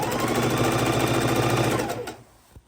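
A sewing machine quilts green batik fabric in a rapid, steady run of close stitching that stops abruptly near the end, leaving a faint click.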